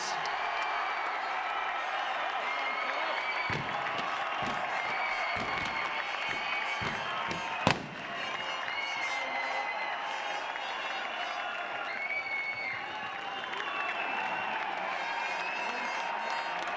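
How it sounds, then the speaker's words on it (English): Crowd applause and cheering at the 2003 V8 Supercar Eastern Creek race event, greeting the series champion, a steady wash of clapping and voices from a large outdoor audience with a brief sharp knock midway. "we'd ask you all to give a nice round of applause to the 2003 V8 Supercar champion, Marcus Ambrose."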